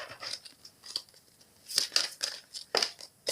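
A deck of oracle cards is cut by hand: crisp papery flicks and snaps in short bursts, close and fairly quiet, separated by brief pauses, with no talking.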